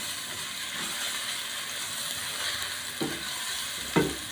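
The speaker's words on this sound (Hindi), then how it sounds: "अब मैं इसमें 1 टेबल स्पून लहसुन अदरक का पेस्ट डाल दूँगी। थोड़ा सा इसको फ्राई करेंगे" Garlic-ginger paste fries in a pan for a mutton and round gourd dish, giving a steady close hiss with a couple of louder spoon scrapes near the end.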